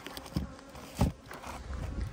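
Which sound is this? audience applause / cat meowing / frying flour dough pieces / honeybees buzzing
honeybees buzzing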